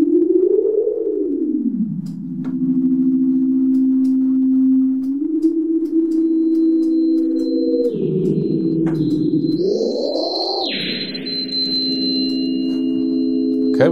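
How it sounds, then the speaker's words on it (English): A reverb feedback loop on a return track rings as sustained sine-like tones that glide and warble in pitch, with a high whistling squeal rising near the end as the reverb settings are changed. "We're gonna start hearing that feedback sound and I'm gonna start playing with the parameters of the reverb."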